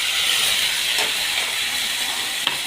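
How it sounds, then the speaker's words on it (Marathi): Chopped onion and tomato fry in a pan over cumin seeds, giving a steady, close, broadband hiss with no talking. "हा कांदा असा छान फ्राय झाला"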